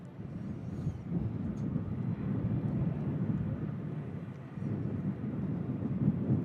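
Singapore Airlines airliner at Manchester Airport, a faint, distant low engine rumble that swells and eases slightly, heard alone without voices.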